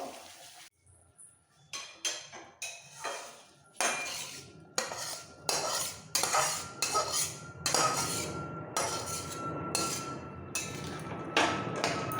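Spice mix goes into cauliflower stems in a pan for chochhori, heard as a close run of repeated metal spoon scrapes and clinks against the pan in an uneven rhythm, with a faint sizzle underneath and no speech.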